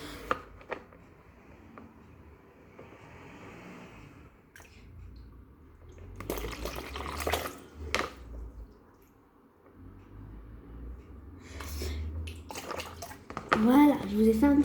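Water is drawn out of a goldfish tank with soft sloshing, gurgling and squishing, and a few clicks and drips. A person talks quietly over it.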